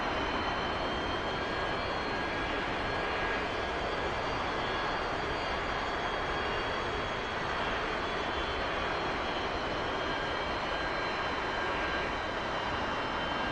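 An A-4E Skyhawk jet engine roars steadily at high power in the DCS World flight simulator, a constant broadband rush with a faint high whine and no talk.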